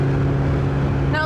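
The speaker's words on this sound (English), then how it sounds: "it makes this lovely kind of pop and crackle from this exhaust" A Lotus Elise exhaust rumbles steadily at close range with a deep droning tone, and a faint higher crackle creeps in at the very end.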